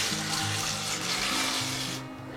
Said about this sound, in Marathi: आता आपण डाळे तळूया